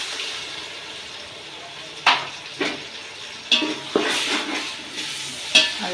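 Ginger garlic paste is stirred into fried onions in a pan while making prawn biryani, giving a soft sizzle under a few scraping spoon strokes and clinks, with no talk.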